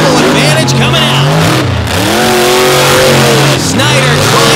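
Two monster trucks launch side by side at a Brooksville monster truck race, engines revving hard with roaring acceleration and tire squeal, loud and close, as an announcer talks over the noise.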